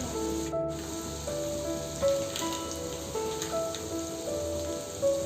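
Garlic paste sizzling in hot oil while a restaurant-style chicken curry is cooked at home, a steady crackling hiss with spattering pops throughout, close and fairly loud, with no voices.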